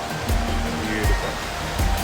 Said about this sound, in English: looks like this is the beginning of a waterfall here